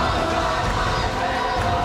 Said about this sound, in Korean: 성회에 모인 4만 명의 성도들은 승리의 함성을 외치듯 소리 높여 찬양합니다.